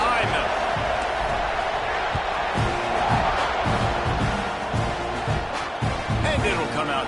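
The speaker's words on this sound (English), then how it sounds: "They're set to kick it off, and this crowd now ready to get behind them" A packed stadium crowd in an American football video game roars in a constant, dense wash of noise as the kickoff approaches, with dull thumps and a commentator talking over it.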